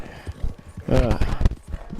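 A horse's hooves clip-clop in Red Dead Redemption 2 Online, a run of soft, rhythmic thuds close by, partly under someone talking in the middle of the moment.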